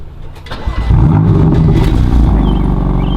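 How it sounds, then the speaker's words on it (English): A BMW M4 engine, already warm, starts up with a brief crank, then flares into a loud, deep rev before settling into a rumbling idle close by. "gonna give us a little startup. It's not a cold start, but she still sounds nice"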